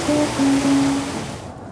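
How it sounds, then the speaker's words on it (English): Water near a public market recorded in the field: a dense, steady wash of lapping water with low droning hums running under it, loud and close, fading slightly toward the end. "I'm gonna try to get some sounds down by the water."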